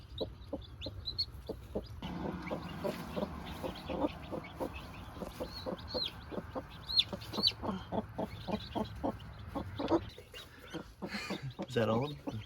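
A broody hen sitting on nine chicks clucks in low repeated pulses close by, while the chicks peep faintly in the background and people talk over the sounds.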